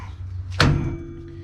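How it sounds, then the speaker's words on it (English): A single sharp metallic strike of a large hammer on a metal pin while replacing a trailer's slack adjuster, with a brief bright ring fading into low background hum. "this time we're going to use a little bit bigger hammer."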